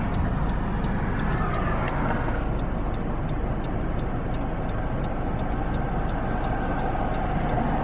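Car interior while driving through busy city traffic, a steady road and engine rumble with faint regular ticking, like a turn signal.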